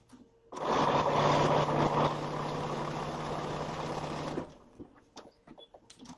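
A sewing machine stitches a knitted star quilt block in one steady, continuous run of about four seconds, close and fairly loud, then stops, leaving light handling noises.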